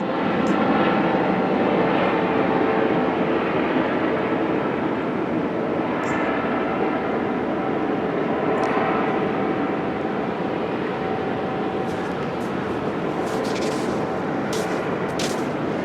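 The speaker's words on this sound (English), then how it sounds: "Got the Coast Guard helicopter." A loud, steady Coast Guard helicopter roar dominates throughout, a broad rumbling engine and rotor drone that stays constant with no pauses.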